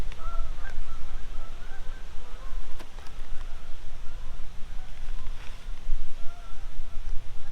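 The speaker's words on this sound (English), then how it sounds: "The ducks are laughing at me in the background" Ducks quack and honk repeatedly in the background at a windy dam campsite outdoors, scattered calls over heavy wind noise, moderately distant.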